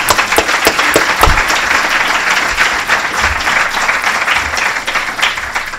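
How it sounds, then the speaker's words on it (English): A big round of applause from the audience for a film-and-ocean conference panel, many hands clapping in a steady, dense roar that holds loud and even from start to finish. "Let's give them a big round of applause."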